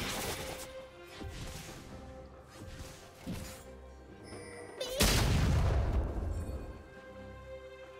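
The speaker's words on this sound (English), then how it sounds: "Blue team's turret has been destroyed." A League of Legends turret collapses with a heavy booming crash that bursts out midway, after a stretch of quieter game effects and low rumbles.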